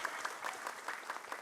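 An audience at an Islamic talk show lecture claps briefly, a short patter of light, fairly sparse applause in a hall.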